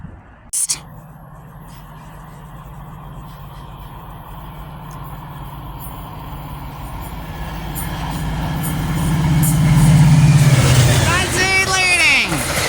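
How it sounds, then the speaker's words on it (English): A northbound FrontRunner commuter train approaches at Clearfield, Utah, on the Salt Lake subdivision, its engine drone building steadily from far to near and growing loud, with a sharp bang near the start and squealing, tonal sweeps at the end. "I will catch you guys when this northbound FrontRunner train gets here"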